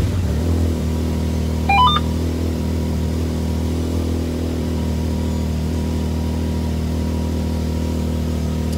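A Can-Am X3 RS side-by-side sits idling just after an ECU flash, a steady low engine drone holding close and even, briefly topped by a short rising series of electronic beeps near the start.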